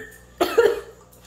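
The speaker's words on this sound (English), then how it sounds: "You're just coughing, bro." One person gives a single short, harsh cough at close range, a brief burst against a quiet background.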